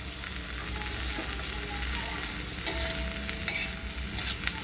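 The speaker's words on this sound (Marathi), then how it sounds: "आता याच्यामध्ये आपण तेल ॲड करूया तेल टाकूया कांदा भाजण्यासाठी" Oil heats in a pan for frying onion while an egg chutney is being made. A steady close sizzle continues throughout, broken by occasional light stirring clicks, with no talk.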